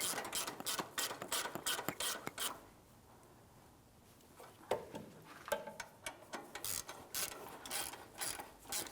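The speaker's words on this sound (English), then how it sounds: "I'm just going to use my ratchet here just a couple turns" Rapid clicking of a hand ratchet snugging exhaust manifold bolts on a 2003-2008 Toyota Matrix 1.8L four-cylinder, close and crisp in steady bursts, pausing briefly before resuming with quicker, irregular clicks.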